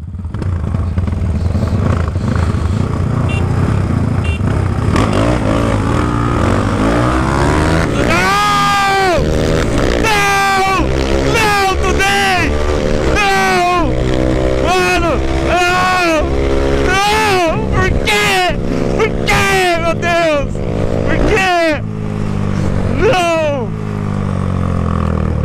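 Motorcycles launching from a traffic light in a street drag race, a steady close engine roar that breaks into a run of loud rising revs, each climb cut short by a gear change.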